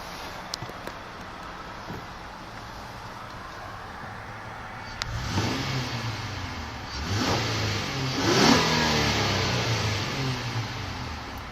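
A 2013 Honda Accord Touring V6 starts up and revs, its exhaust swelling from a quiet idle into two or three rising, throaty blips before settling back, heard fairly close with no talking.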